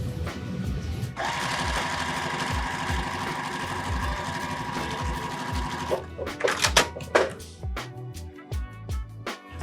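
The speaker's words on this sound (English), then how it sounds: "we're now going to sew these 2 pieces together" A sewing machine stitches two quilt pieces together in a steady, buzzing run lasting several seconds, then slows into short, stop-start bursts with clicks and handling noise.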